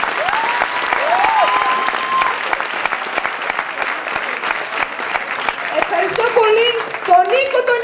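Sustained audience applause at a vocational high school theater performance in Stavroupolis: dense, continuous clapping from a crowd, with a few voices and whoops rising over it toward the end.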